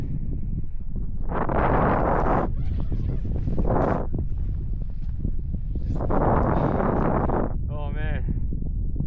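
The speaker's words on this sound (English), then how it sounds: "it's good to be out of the wind" Blizzard wind roars outside a tent in snowy mountains, loud and continuous, rising in strong gusts with rustling fabric throughout, and no speech.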